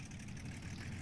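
The engine of a Focke-Wulf Fw 190 D Dora fighter in War Thunder runs right after start-up, a steady, dense low engine drone close up and continuous for about a second, with no talk.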